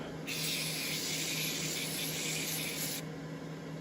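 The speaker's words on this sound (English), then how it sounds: "So take your CRC cleaner, get your straw on, give it a nice zap" CRC cleaner sprays through a straw into a brushed RC motor in one continuous hiss of about three seconds, close and fairly loud, over a faint background hum.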